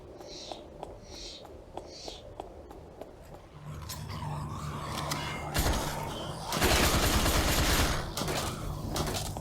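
Rapid bursts of gunfire in the PlayStation VR zombie shooter Pancake House, sharp repeated shots followed by louder chaotic firing and zombie growling, with a few faint voices underneath.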